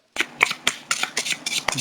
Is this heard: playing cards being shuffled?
yes